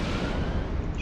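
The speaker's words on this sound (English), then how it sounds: "Oop, I wasted a volley of missiles there" A missile volley launches from a cruiser in EVE Online, a dense, rumbling roar of artillery-like firing that stays loud and steady through the short moment.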